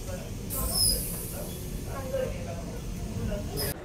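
A Vande Bharat train pulls into Balasore station with a soft, steady low rumble and a few sharp, high wheel squeals, heard quietly in the background.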